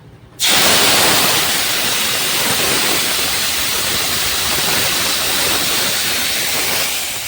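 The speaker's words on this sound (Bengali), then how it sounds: "তো চলো এবার সেদ্ধ করে রাখা ডালটা দিয়ে দিই।" Boiled lentils hit hot oil seasoned with bay leaf, dried chilli, fennel and turmeric, bursting into a sudden loud, steady sizzling hiss that stays intense and close to the end.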